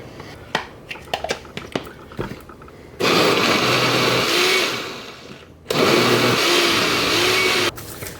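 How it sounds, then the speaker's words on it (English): A kitchen blender whirs through a garlic-infused oil mixture in two loud, steady bursts, each running a couple of seconds, preceded by small clatters and knocks of setup. "And you don't have to blend it very long, just long enough to get the chunks out."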